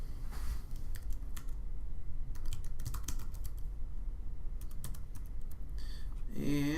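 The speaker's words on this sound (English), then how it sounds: "Typing is not my #1 skill." Someone types on a computer keyboard in irregular bursts of quick clicks separated by short pauses, heard up close over a steady background hum, with a brief voice at the very end.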